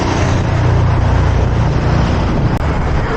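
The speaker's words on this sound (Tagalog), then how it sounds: "Grabe ang ingay. Ang bibilis na mga sasakyan." Fast, loud traffic rushes past on a service road near the SLEX expressway, a dense continuous roar of engines and tire noise heard from a bicycle, buffeted by wind noise.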